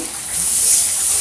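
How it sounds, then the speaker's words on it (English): Tap water runs steadily over kitchen bowls as they are rinsed, a loud, close hiss of splashing water that continues without a break. "now I'm just cleaning up a bit these bowls"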